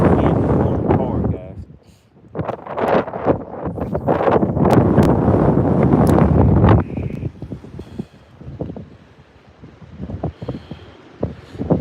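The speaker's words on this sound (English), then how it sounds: "Man, this wind is blowing hard" Strong wind blasts across the microphone outdoors on a bass fishing boat, heavy rumbling gusts that rise and fall while someone talks over them.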